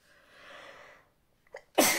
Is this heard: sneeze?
yes